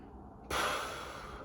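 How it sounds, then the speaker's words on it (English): A single deep inhaled breath, close and airy, starting abruptly and fading slowly over about a second, with no talking. "I just had to take a deep breath"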